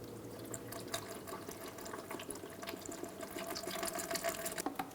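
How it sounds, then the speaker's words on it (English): Coolant is poured through a funnel into the overflow tank of a 1992–1996 Ford F-150, producing a soft continuous trickle and gurgle of liquid with faint splashy ticks, close and quiet. "we're going to put a funnel in place, and we're going to top off our coolant"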